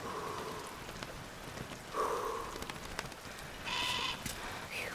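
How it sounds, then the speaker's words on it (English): Rain falls steadily in the climbing game Cairn, a broad even wash that continues throughout, with short tonal bleat-like calls rising above it a few times. "How long is the rain gonna last for?"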